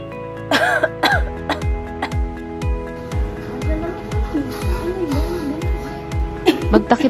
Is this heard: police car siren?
no